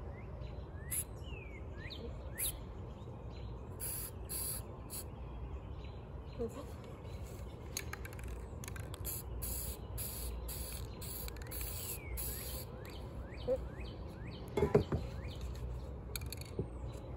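A spray paint can sprays black paint in light bursts, hissing softly over a steady outdoor background with bird chirps and occasional talk.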